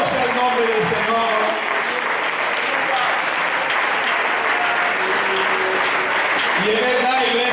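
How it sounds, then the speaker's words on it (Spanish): A church congregation applauds loudly during a Spanish-language sermon, with dense, sustained clapping that fills the space throughout and voices calling out briefly at the beginning and end. "denles aplauso a Él"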